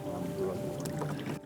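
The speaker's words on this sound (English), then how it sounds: "This is lovely because, Fred, we don't have an engine here, only an electric engine." A boat driven by an electric engine moves across a reservoir in Ireland, giving a steady low hum and water wash that runs the whole way through, with a faint voice partly underneath.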